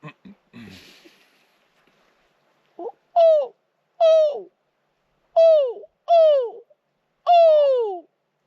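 A person's voice imitates owl hoots, calling for an owl beside a lake in the woods: five drawn-out, falling calls with short pauses between them, loud and close, after a few soft rustles.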